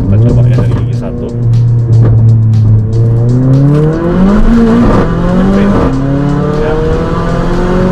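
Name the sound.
Mercedes GLA45 AMG accelerating hard from first gear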